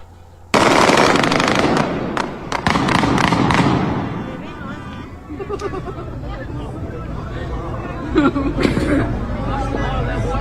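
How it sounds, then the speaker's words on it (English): Fireworks going off in rapid bursts, a dense crackling barrage of loud pops and thumps that starts abruptly and then thins into scattered bangs, with people talking excitedly over it. "See, there's fireworks going on."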